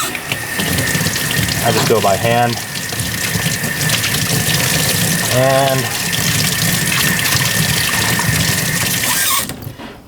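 Hookah bowl held under a running tap, water gushing steadily into a sink for most of the stretch before cutting off near the end, with someone speaking briefly over it.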